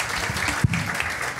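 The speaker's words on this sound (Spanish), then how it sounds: "Un fuerte aplauso para él, por favor." Steady applause from a live event audience at a spooky Christmas show in Peru, a dense continuous clatter of many hands filling the room at a constant level.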